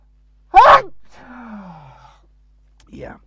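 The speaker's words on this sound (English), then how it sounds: "I'm gonna sneeze." A single sneeze bursts out loud and close, followed by a drawn-out breathy exhale or groan and a brief vocal sound near the end, with no speech around it.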